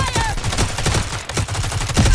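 Rapid gunfire from an HK G36 with a drum magazine in the mobile shooter Modern Strike during a deathmatch, a loud, dense automatic burst of close shots with brief pauses.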